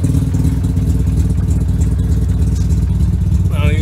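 A tuned Mazda RX-7 FD rotary engine idles around 1200 RPM with a loud, close, choppy brapping pulse that stays steady throughout, and a brief voice cuts in at the very end.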